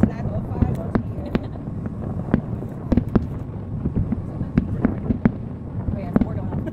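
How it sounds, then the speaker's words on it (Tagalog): New Year fireworks bursting again and again, sharp cracks and pops over a steady crackling rumble, with people chatting nearby throughout. "There's a lot of fireworks here."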